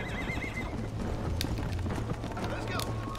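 A horse gallops in Red Dead Redemption, rapid hoofbeats with a whinny and neigh breaking through, while a voice talks over the game sound.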